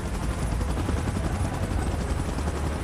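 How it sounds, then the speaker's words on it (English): A helicopter in the BGMI video game gives a loud, steady rotor rumble and dense whirring noise throughout, close and continuous. "Chopper in position."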